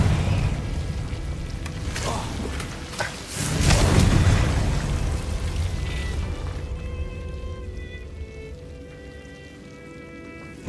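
Confringo blasting spell explosions in a Harry Potter video game, a few heavy booming blasts rolling over a steady rumbling backdrop, fading out into quieter ambience with faint musical tones.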